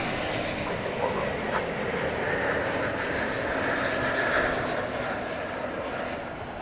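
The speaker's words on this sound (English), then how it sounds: "out along the fence, watching the planes" Jet airliners at Dallas Fort Worth International Airport, heard from outside the perimeter fence in the evening: a broad, steady engine roar that holds at moderate distance and slowly fades toward the end.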